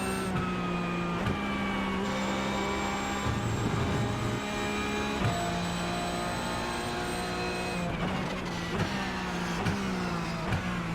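Porsche 911 Cup car racing at Spa in iRacing, its engine screaming loud and close, pitch climbing through the gears with sharp drops at each shift, steady and continuous with no talking.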